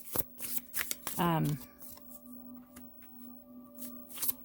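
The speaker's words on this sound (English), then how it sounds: "I've been shuffling the cards" Tarot cards riffle and shuffle close by in quick bursts, with a short whirring sweep among the crisp taps and a quiet voice in the background.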